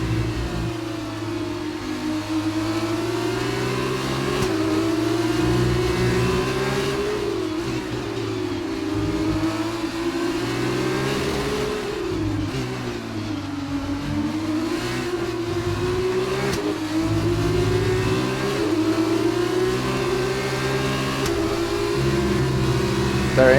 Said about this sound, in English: I go all the way down to first gear.